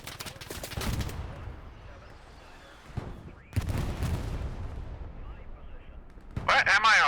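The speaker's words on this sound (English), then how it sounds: "We're taking heavy fire." Heavy gunfire and booming artillery in a video game: loud bursts at the start and middle with rumbling blasts, quieter gaps between, and a sharp burst of fire near the end.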